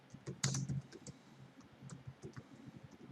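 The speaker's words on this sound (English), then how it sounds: "And now they could type" Quiet typing on a computer keyboard, with light, scattered key clicks close by, a small quick cluster near the start and then sparse, irregular taps.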